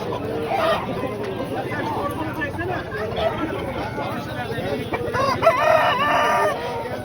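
A rooster crows at an Antakya bird and poultry market, the call rising above a steady crowd babble with clucking fowl and chatter; a second crow follows near the end.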